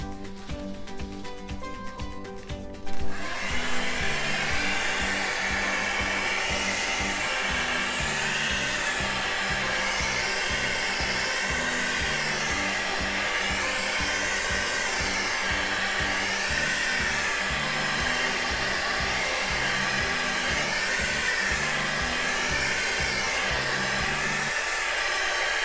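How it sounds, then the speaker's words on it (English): A hot-air blow dryer runs continuously at close range, aimed at an acrylic flip cup paint pour, a steady loud whooshing roar that starts abruptly after a few seconds of quieter sound. "let's try to get some cells by using the hot air from the blow dryer"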